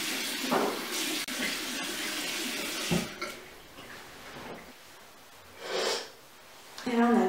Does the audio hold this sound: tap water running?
yes